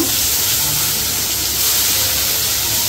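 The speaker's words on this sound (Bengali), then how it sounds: "সেই আলুগুলোকে দিয়ে এবার এটাকে আমি ভাজবো" Potatoes fry in a pan with turmeric, giving a loud, continuous hiss and sizzle of hot oil that holds steady throughout, close up and with no talking.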